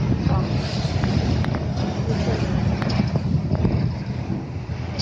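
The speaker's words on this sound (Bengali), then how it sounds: "একটা বোট আসতেছে।" A boat passing along a canal in Venice in the evening, a steady low motor rumble heard from nearby through constant wind noise on the microphone.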